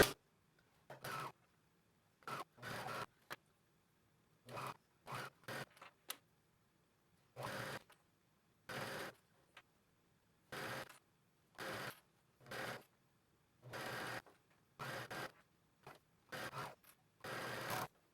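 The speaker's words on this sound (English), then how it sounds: "we are going to sew with a serger, stretch stitch, or zigzag all along this binding piece" A serger runs in short, regular bursts along a binding strip on a dress, each stretch of stitching separated by a brief pause, close and mechanical, with no voices.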